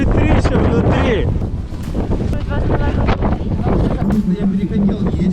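Loud wind buffets the microphone in rough gusts while people talk nearby, on the ice of Lake Baikal in winter.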